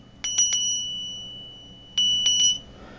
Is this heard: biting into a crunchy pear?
no